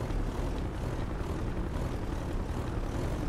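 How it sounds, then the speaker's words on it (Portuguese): Police helicopter passing overhead in the video game GTA V, a dense, steady low-pitched rotor and engine roar that stays loud and constant throughout. "Olha o helicóptero do Graer passando ali em cima."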